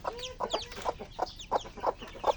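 Several chickens at close range, among a flock with newly hatched chicks, give a run of soft, rhythmic clucks at a steady pace, with no talk.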